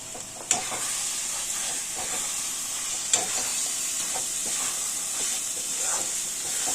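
Cashews and raisins stirred into carrot halwa with ghee in a pan, producing a soft steady sizzle and steamy hiss with two sharper knocks and faint scraping; no one speaks.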